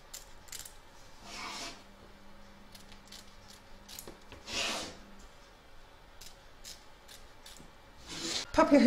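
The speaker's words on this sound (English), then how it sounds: "You're now going to trim up the excess fabric from both the front and back" Scissors snip through excess fabric around an embroidery hoop in soft, scattered cuts with a few brief rustling swishes, all quiet and close, followed by a louder handling clatter at the end.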